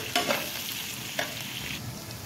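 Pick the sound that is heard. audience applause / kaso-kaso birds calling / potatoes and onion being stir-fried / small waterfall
potatoes and onion being stir-fried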